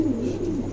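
A male pigeon of a light silver colour coos once, a short, low, throaty warble heard close and fairly loud, with no talk.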